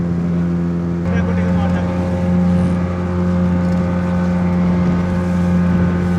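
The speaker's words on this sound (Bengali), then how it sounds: "আমাদের ট্রলারটা কিন্তু ছুটে চলেছে চর বিজয়ের উদ্দেশ্যে।" Motor trawler running across a rough sea off Kuakata toward Char Bijoy, its engine droning loud and steady with a strong low hum that thickens slightly after the first second, wind and water noise underneath.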